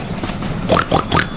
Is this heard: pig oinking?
yes